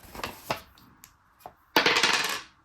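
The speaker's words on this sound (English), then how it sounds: "let's see what happens if I roll the dice again" Dice rolling: a few sharp, close clicks and taps, then a brief clattering tumble on a hard surface, heard alone without talk.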